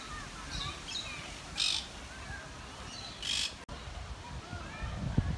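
Crow-like caws and scattered chirps rise from birds at Birmingham Botanical Gardens, a few louder bursts standing out against a background murmur of voices and ambient noise.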